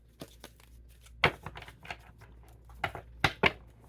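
Cards being shuffled in a tarot-style reading, a few crisp riffling and flicking bursts with quiet gaps between them, close and fairly soft, with no talking.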